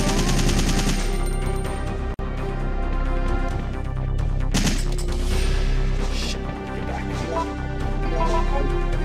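Sustained rapid assault rifle fire in Resident Evil 3, loud dense bursts of automatic shots over a thick game soundscape, with one brief dropout before the firing resumes and runs on.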